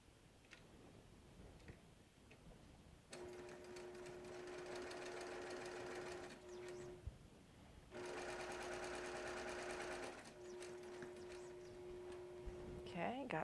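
Sewing machine stitching a quilt, running in three sustained bursts of fast rhythmic whirring and clatter with a steady motor hum, separated by brief pauses, close up.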